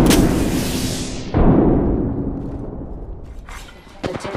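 A frag grenade detonates in the shooter game Apex Legends with a loud, close blast. A second burst follows and its rumble decays over several seconds, then faint gunfire crackles near the end.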